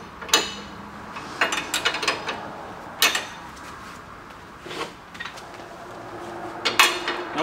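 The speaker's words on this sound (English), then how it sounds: "we'll take our 18 millimeter wrench and we'll just loosen the front bolt of the trailing arm" An 18 mm wrench works loose the front trailing arm bolt under a 2016 Camaro SS, producing a run of metallic clicks, ratcheting rasps and clanks in short bursts separated by quieter gaps, close and fairly loud.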